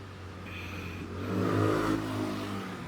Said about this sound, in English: he's supposed to rev your engine like that